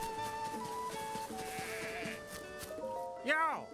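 Goats in The Legend of Zelda: Tears of the Kingdom give a wavering bleat near the end, over steady game music and sounds, with a person talking over them.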